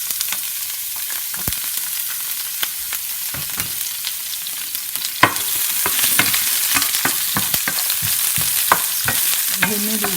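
Onions sizzle in olive oil in a pan, a steady fry hiss that grows louder midway, with scattered stirring scrapes and taps throughout.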